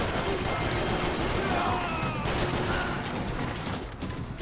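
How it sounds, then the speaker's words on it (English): Dense, continuous gunfire in the action shooter Max Payne 3, with rapid shots blurring into a sustained roar over game noise and music throughout. "I shot him in the legs."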